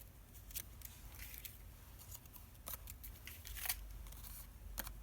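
Scissors snip out paper leaves for a journal page, a series of faint, close, sharp cuts spaced irregularly over a quiet background hiss, no talking.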